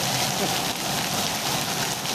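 Rain falls hard and steadily on surfaces outdoors, a loud, even, unbroken patter close by that fills the whole moment.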